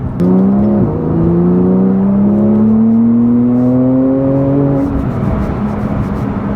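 A Porsche 911 Turbo S engine hums steadily from inside the car while driving, its tone rising smoothly as it pulls, then easing off near the end, loud and close with no talk.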